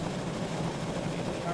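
Steam locomotive blower running on an S060-440 tank engine in the train simulator game Derail Valley, a steady broadband rushing roar that holds at constant loudness throughout with no pauses.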